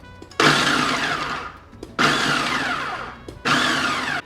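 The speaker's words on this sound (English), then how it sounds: "Let's get this in the processor, and we just want to pulse this a few times just to kind of break it down" Food processor pulsing jalapeño and garlic for homemade Mexican salsa, three loud whirring bursts of about a second and a half each, separated by short pauses as the blades chop.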